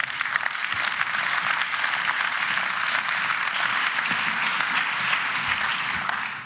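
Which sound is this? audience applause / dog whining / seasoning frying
audience applause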